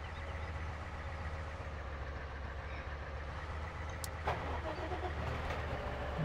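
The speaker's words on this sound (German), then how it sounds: "Ach, dann ist der LKW auch schon wieder hier." A truck engine in the farming simulator game Farming Simulator 17 idles in a steady low drone, with a brief faint clatter partway through and no voices over it.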